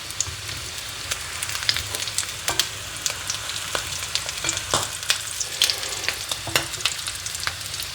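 Salmon patties sizzle and crackle steadily as they fry in oil in a pan, with a dense, continuous hiss and occasional sharper pops, close and fairly loud with no talking.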